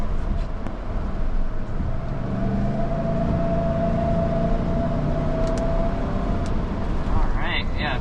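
A 2022 Lincoln Navigator Black Label accelerating on a street, heard as a steady, fairly loud engine and road roar with a thin whine running through it for about eight seconds.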